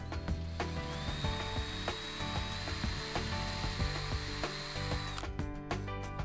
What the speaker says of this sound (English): Then drill pilot and countersink holes at each mark.